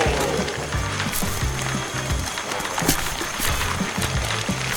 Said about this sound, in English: My newest ice shaver machine will whip up a perfect icy treat in just a minute